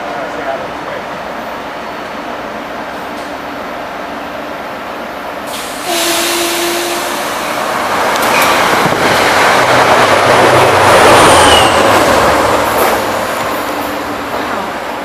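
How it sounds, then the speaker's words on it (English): An express train approaches and rushes past at speed with a rising, broad roar and rumble, joined by wind buffeting the microphone; a voice speaks briefly early on. Recorded trackside at Ramsey Route 17, New Jersey. "Yeah, that's an express train. It's coming fast."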